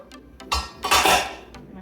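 Spoon scooping cooked chickpeas in a dish, with a few close metallic scrapes and clinks against the bowl over a short moment.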